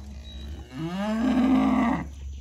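Cows mooing as they are let out after milking and head toward the pasture to feed, with one long, loud, rising moo close by over a steady low hum.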